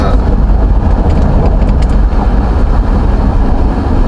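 A 2016 Ford F-150's 3.5 V6 engine, brought back from a dead state, spins over loudly as a dense, steady mechanical rumble that holds without a break for several seconds.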